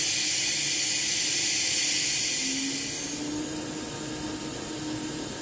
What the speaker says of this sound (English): Program turns on the coolant mist.